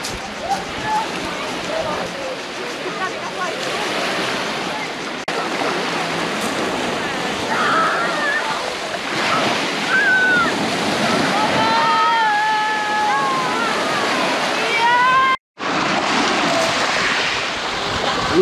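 Sea waves off Malá Duba on the Croatian coast, with paddleboarding in the water: a steady, broad wash of surf and wind runs throughout, with voices and some high squeals over it and a brief dropout near the end.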